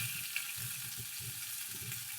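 Fried eggplant pieces with chopped green chillies sizzle gently in a pan. The soft, steady crackle and hiss stays faint and even throughout, with no voices.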